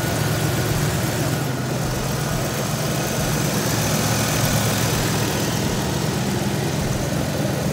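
A small-block engine idles steadily after an oil pump replacement, a continuous low rumble with a constant mechanical hum and no speech, close and fairly loud throughout.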